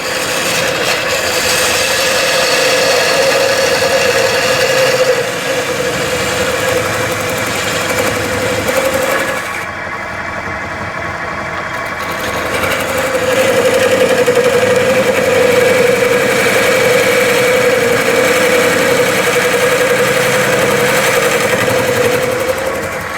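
A redwood burl platter spins on a woodturning lathe, giving a loud steady hum with a tonal whine and the scraping rasp of the tool on wood, which briefly drops away midway and then resumes.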